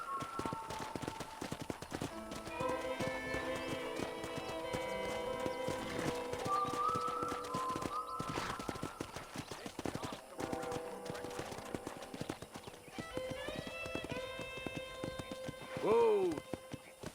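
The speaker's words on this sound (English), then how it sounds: "I picked out a fine horse for you." Horse hooves clip-clop steadily in the Red Dead Redemption video game, with an occasional whinny and snort, under a continuous rhythmic patter and talking voices.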